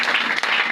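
A church congregation applauds during a gospel deliverance service, a dense, steady wash of clapping filling the whole short moment with a brief sharper burst near the middle.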